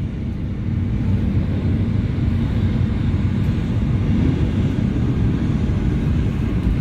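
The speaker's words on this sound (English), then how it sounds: "Revs come up on the jet engines." Jet engines on a jet dragster spool up at a drag strip's starting line, making a loud, continuous roaring rumble that builds slightly and holds steady.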